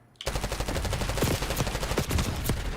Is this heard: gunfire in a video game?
yes